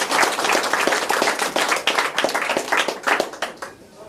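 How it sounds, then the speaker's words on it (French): A crowd gathered for speeches at a knife festival claps in a lively burst, with many hands clapping close and unevenly before the sound starts to thin out toward the end. "Je vous demanderai de l'applaudir bientôt."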